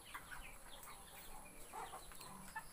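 Young chickens about 45 days old cluck softly while being given feed, faint scattered calls close by over a low background.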